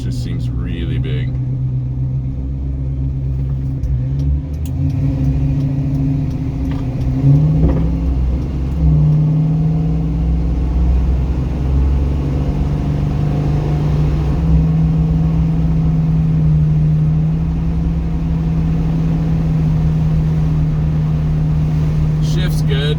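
A 1974 Plymouth Barracuda with a 318 V8 rumbles loudly from inside the car on a shakedown drive, its revs rising and falling through shifts while someone talks intermittently over the engine.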